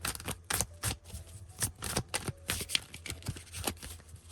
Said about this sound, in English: So I would say the shuffle game isn't bad.